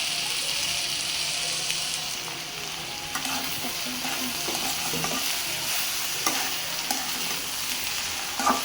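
Onion sprouts (peyaj koli bhaji) frying in a pan, a steady loud sizzle with occasional scrapes and clinks from stirring, and no talking.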